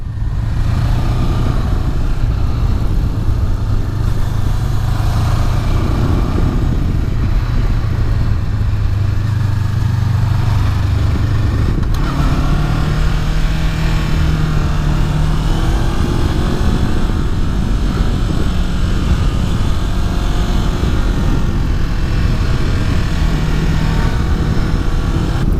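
A 2018 Honda CB500X motorcycle ridden along a winding road, its engine droning loud and steady with a shift in pitch partway through, under constant wind rush and no talking.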